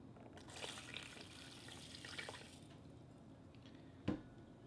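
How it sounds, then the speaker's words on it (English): A cup of water poured onto rice in an Instant Pot: a soft, faint splashing stream over a couple of seconds, then a brief sharp clink near the end, with no talking. "So we're going to add a cup of water to it."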